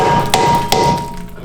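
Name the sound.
hammer beating stuck brake rotor through wood block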